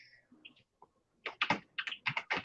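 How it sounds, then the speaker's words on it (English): Loud computer keyboard typing in bursts of rapid, clattering keystrokes, close and clear, after a few quieter taps and a brief pause. "I wish my keyboard wasn't so loud."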